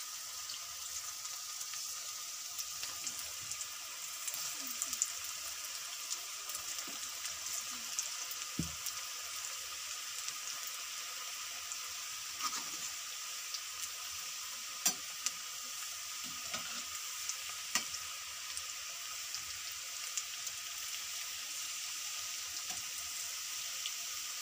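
Onion pakoda fries in hot oil with a steady, soft sizzle and hiss, broken now and then by faint stirring clicks and small pops.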